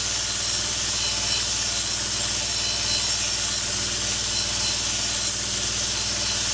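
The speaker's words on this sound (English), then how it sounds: "This is a 240 grit Scotch-Brite wheel." The flat of a single-bevel Kamikoto kitchen knife is satin-polished on a 240 grit Scotch-Brite wheel, giving a steady, even hiss over a low motor hum that holds without a break.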